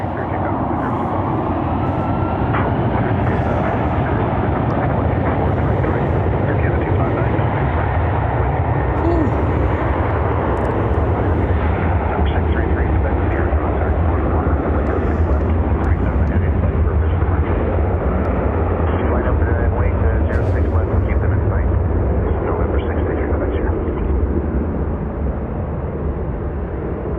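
An airliner roars down runway 06 left at Toronto Pearson on its takeoff roll, a loud, steady broadband engine rumble that holds for the whole stretch with no break.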